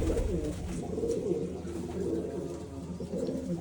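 Pigeons kept by a hobby breeder, with newly hatched chicks nearby, coo in low repeated throaty calls that carry on steadily at close range throughout.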